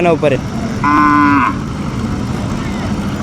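Bullocks at a cattle market in Kingaon bazaar give a loud, drawn-out moo lasting about a second, over a busy crowd murmur. A shorter bellow comes just before it.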